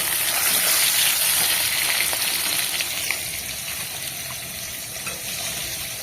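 Hilsa fish frying crisp in a hot pan gives a steady, close, dense sizzle and crackle that runs unbroken throughout, with no voices.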